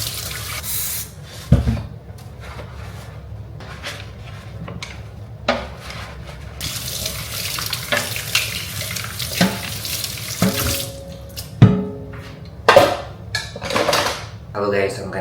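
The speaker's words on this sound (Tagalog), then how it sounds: "I'm gonna wash this dish and" A dish is washed under a running kitchen tap, with steady water flow broken by sharp clinks and knocks of the dish against the sink, heard close up with no talking.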